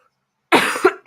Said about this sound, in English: at least I'm having a productive cough now.